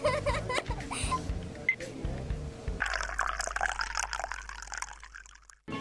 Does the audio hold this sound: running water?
yes